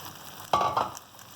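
Boiled chickpeas hit a pan of softened onions and fry with a sudden sizzle and a quick stir, a short close burst that fades back to a quiet hiss.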